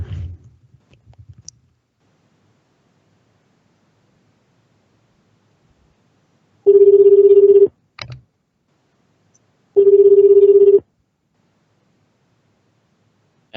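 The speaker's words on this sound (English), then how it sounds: "Okay, dialing now, guys." Telephone dialing and ringing on a prank call: a few soft clicks as a number is dialed, then a quiet pause followed by two long, loud, steady ringback tones separated by a brief click.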